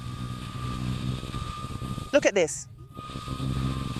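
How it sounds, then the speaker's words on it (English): Bajaj Dominar NS400Z motorcycle ridden on the road in sport mode, a steady engine drone under wind noise with a brief high whine near the middle; a rider speaks briefly. "Here on the road, I put it in sport mode. The bike is way more fun now."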